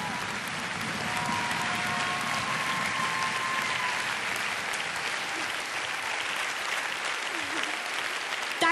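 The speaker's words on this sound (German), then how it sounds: "Dein Applaus" Sustained audience applause at a TV talent show, a thick, steady roar of clapping from a large studio crowd holding at an even level throughout, with a faint voice underneath.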